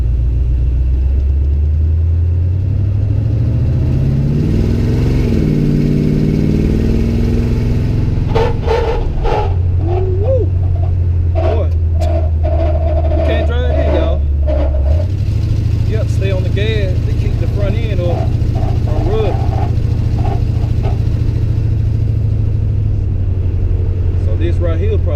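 A car with a crate 350 engine and 4.10 rear end gears, on 26-inch wheels, rumbles loudly up close, its deep exhaust note rising and shifting as it accelerates, with someone talking over the engine.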